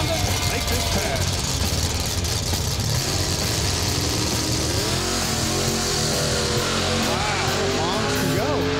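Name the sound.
drag racing car making a pass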